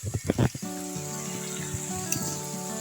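Onions and tomatoes sautéing in a pan with rock salt give a steady, close sizzle that runs the whole time, with a few louder stirring clatters at the start.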